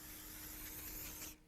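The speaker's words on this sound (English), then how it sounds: "Take some non-stick baking spray and spray your pan." Non-stick baking spray hisses in one steady, close burst onto a metal jelly roll pan with raised sides, then cuts off sharply at the end.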